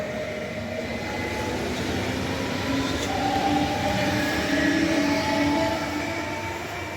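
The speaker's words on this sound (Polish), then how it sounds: "I odjazd. Dwa elfy jako linia lotniskowa" Two coupled Elf electric multiple units pull out of Legionowo station as an airport service, a steady loud rumble of wheels and traction hum that swells slightly with faint whining tones, heard close by with no talk.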